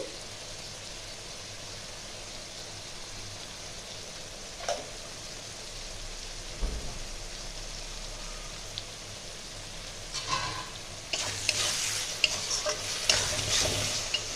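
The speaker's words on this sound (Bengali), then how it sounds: "এটাও 1 মিনিট আমি ভাজবো।" Onion-garlic masala paste frying with kasuri methi in a pan for a chicken masala, a low steady sizzle with occasional stirring knocks that grows louder and busier toward the end.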